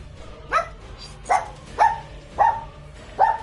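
A dog gives five sharp barks at roughly even intervals, close and loud, each a short clipped woof with quiet gaps between them and no talking.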